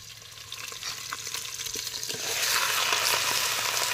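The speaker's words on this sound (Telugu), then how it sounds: "మిర్చి ఆనియన్స్ అయితే వేసుకుందాం దోస్తులు." Chillies and onions go into a hot pot with bay leaves for a village-style chicken curry. A gentle background sizzle swells into a loud, dense frying hiss partway through, with light stirring clicks and no speech.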